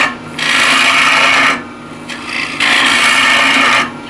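Woodturning tool scraping across a spinning yew blank on a lathe, a steady close rasping hiss in two long passes separated by a brief lighter pause.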